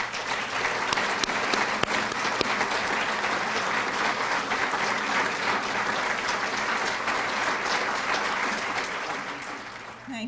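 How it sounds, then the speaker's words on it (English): An audience at a community college building dedication gives sustained, even applause for about ten seconds, a dense and lively clatter of many hands that tapers slightly at the end. "Please join me in a round of applause"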